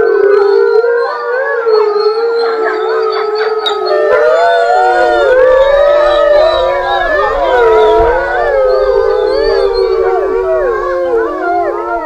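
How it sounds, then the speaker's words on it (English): A pack of wolves howls together in long, overlapping, wavering calls that rise and fall continuously, loud and close, with several voices layered into a chorus. "the rest of the pack is really howling more because their leader is gone"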